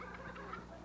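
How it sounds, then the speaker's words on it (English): A duck shut inside a bag gives a few brief, muffled quacks, faint and close against a low steady background hum. "I know there's some of you out there don't believe that we have a duck in the bag"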